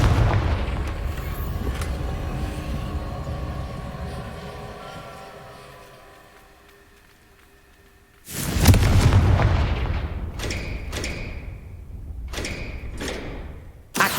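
Fiery Confringo spell blast in the Hogwarts Legacy video game: a loud, booming explosion erupts partway through, followed by a rumbling tail and several sharp impact cracks, set against a softer game soundscape earlier.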